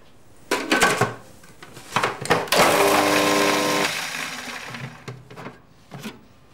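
A food processor blitzes roughly snipped spring onions and a garlic clove, starting with a few short pulses, then a loud steady whirring run of about a second before it stops and a few knocks and clatters follow.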